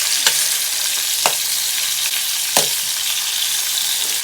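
Olive oil and ingredients sizzling loudly in a hot pan on a camping stove, a dense steady frying hiss with a few sharp crackles and stirring scrapes, close and alone with no talk.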